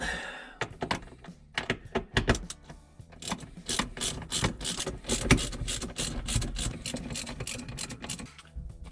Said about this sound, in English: that reveals 4 bolts here. So we need to undo them.